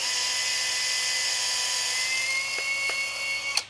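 Drilling a pin hole about an inch deep into a Duramax diesel crankshaft nose, a steady high-pitched whining drill motor running continuously, close up, ending in a brief clatter.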